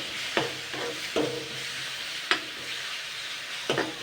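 Spice masala frying in a little oil makes a low, steady sizzle, punctuated every second or so by distinct spoon scrapes and knocks against the pan.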